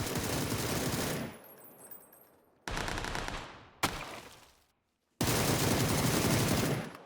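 Video game gunfire battle in a one-on-one bot fight, with loud sustained bursts of rapid automatic fire in several separate volleys broken by short pauses.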